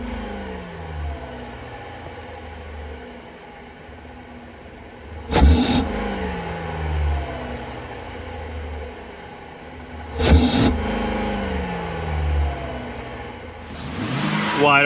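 A gasoline direct injection car's engine holds a steady mid-pitched hum at about 2,000 RPM during an intake valve and injector service, broken by two brief louder surges.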